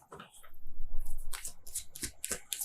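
Tarot cards being shuffled by hand, a few quick bursts of riffling, slapping card noise in close succession, with brief speech in between.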